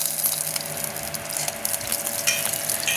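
Dried vadi frying in homemade ghee for a Goan dish, a dense continuous sizzle with light stirring and crackle, close up and steady, no one speaking.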